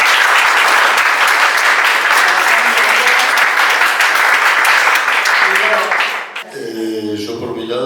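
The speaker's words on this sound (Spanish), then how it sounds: "Sí, un aplauso para ellas" Loud, dense applause fills a debate session at a film series event, holds steady for about six seconds and then dies away. A voice speaks over the tail end.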